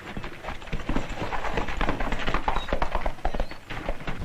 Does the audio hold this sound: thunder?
no